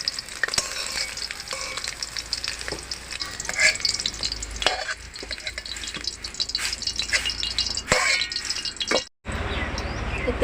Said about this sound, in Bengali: জল দিয়ে ফুলকপিগুলো কপিগুলো লাল লাল করে ভেজে নিয়েছি